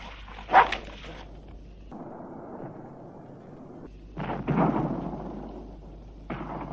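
A dog barks in a few short bursts amid outdoor commotion near a river ferry crossing, fairly close and loud, separated by quieter stretches of background rumble.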